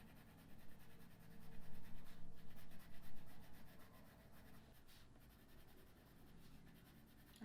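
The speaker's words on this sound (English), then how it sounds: "Again, using light pressure with a dark pencil." Coloured pencil shades lightly across paper, a soft continuous scratchy rubbing with gentle back-and-forth strokes, faint and close, swelling slightly in the middle then easing off.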